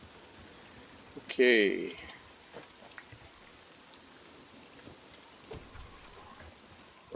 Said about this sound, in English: Or maybe it'll just stop raining at some point.